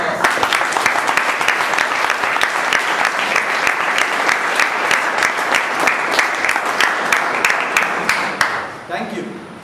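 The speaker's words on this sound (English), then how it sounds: "give yourself and the committee members a big round of applause" Sustained applause from a meeting audience, with sharp individual claps standing out over a dense wash of clapping that carries on for about nine seconds, then tapers off as a voice begins.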